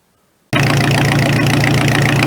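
A small engine fires up abruptly after a moment of silence following a carburetor adjustment, then runs at a steady, loud idle with a low throbbing note, close by, with no talking.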